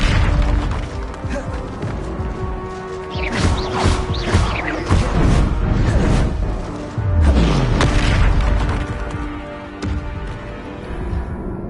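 A magical Confringo blasting spell goes off as a string of loud, close booming crashes and bursts, with debris-like rumble and sharp impacts through the middle and a second heavy blast near the end, over a busy dense background.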